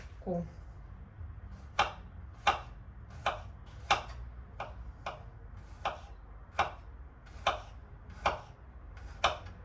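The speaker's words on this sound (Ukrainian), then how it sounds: "Ще нарізаю сюди так дрібненько один зубчик часничку." A knife finely chops a garlic clove on a cutting board in steady, evenly spaced chops, crisp and close, with a few softer taps between.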